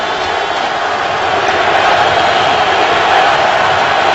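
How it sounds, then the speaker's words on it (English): Broad, steady roar of a football stadium crowd cheering at an Eagles home game against the Chargers, a dense continuous wash of noise that swells slightly toward the end. "So the crowd has come alive."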